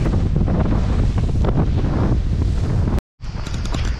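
Sea waves wash against an island shore in Croatia under heavy gusting wind that buffets the microphone, a loud rough rushing that cuts out briefly before returning.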